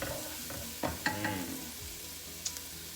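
Minced garlic frying in a pan over a medium flame, a steady soft sizzle with a few brief clinks and scrapes of stirring, close and fairly quiet.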